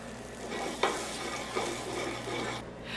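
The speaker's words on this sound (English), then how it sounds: "The marinated grouper is seared quickly before going into the oven." A marinated grouper fillet sears in a hot pan with a soft, continuous sizzle, broken by a few brief scrapes or nudges of the fish.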